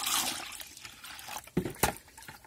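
Water splashes and trickles as more is added to a sticker solution being mixed for a sprayer, with brief gurgling bursts near the end, close and moderately quiet.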